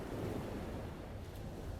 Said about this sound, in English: The sound of waves crashing against the shore is the only sound to break the silence.